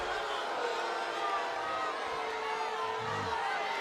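A college softball crowd of Texas fans at a Texas A&M vs Texas game boos a strike call against a Texas hitter, a steady, dense roar of many voices that holds for several seconds without letting up.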